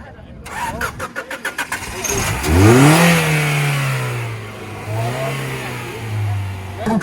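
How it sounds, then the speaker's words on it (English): A car engine at an auto auction cranks with a rapid stuttering starter rhythm, catches and revs loudly, then settles into a rising and falling idle close by, with a voice talking over it. "Gentlemen, start your engines."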